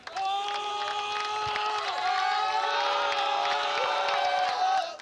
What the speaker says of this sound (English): You can hear that student section really getting into it.